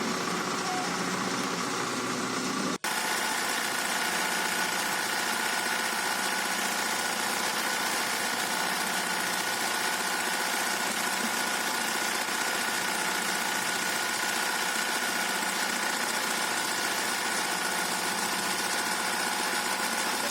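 A mixing machine churns fermented duck and chicken feed, giving a steady loud motor drone with rattling vibration that runs without a break after a brief start at the beginning.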